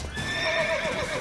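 A horse in the video game The Witcher 3 lets out a single close, clear whinny that rises and wavers for about a second over faint background noise.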